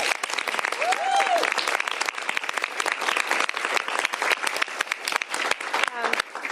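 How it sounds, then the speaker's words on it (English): Applause at a governor's bill signing, a room of people clapping steadily and fairly close, with a voice rising briefly over the crowd. "Please give all of them a round of applause."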